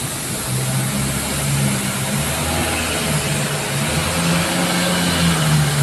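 A large international airliner departs from an airport terminal ramp, its steady engine roar filling the scene with broad, constant rumble and hiss, moderately loud and unbroken throughout.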